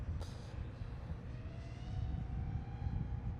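An iFlight Chimera 7 Pro V2 long-range FPV drone flies steadily overhead, its motor whine a continuous droning hum with a slowly rising tone as throttle increases on the pull out of a dive, fairly distant and without talk.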